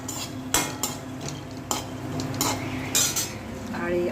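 Chickpeas frying in hot oil in a pan for a bottle gourd dish, stirred with a metal spatula that scrapes and clinks in sharp bursts over a continuous sizzle.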